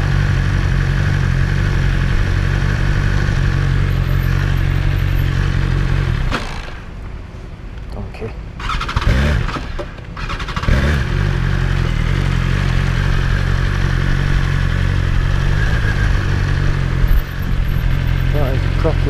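A BMW S1000XR motorcycle engine runs loud and close, its steady mechanical drone dipping briefly midway as the revs change, then returning full.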